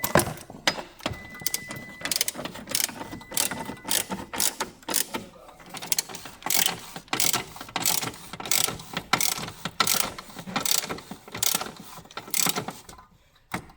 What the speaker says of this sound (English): Start with the flexi wrench.